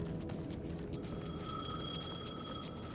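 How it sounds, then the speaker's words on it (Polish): A payphone rings in the Alan Wake 2 video game, its bright electronic bell tone repeating steadily over a low, rumbling ambient background with no talk. "The payphone was ringing."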